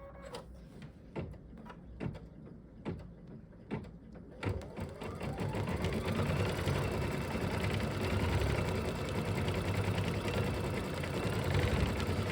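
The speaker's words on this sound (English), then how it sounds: "Push the down button and push sew." Embroidery sewing machine fitted with a Sewtech magnetic hoop, first giving several separate mechanical clunks, then running into a steady loud rapid whirring chatter of stitching that continues to the end.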